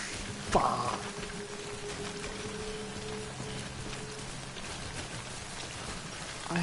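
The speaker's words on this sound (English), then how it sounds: "Don't stay out in the rain any longer than you have to." Steady rain falls across the whole stretch as timefall in the Death Stranding video game, a soft continuous patter with a brief louder knock near the start and faint low hum underneath.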